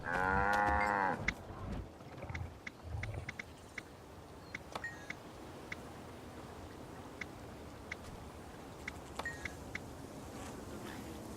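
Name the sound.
cows mooing in video game Guild Wars 2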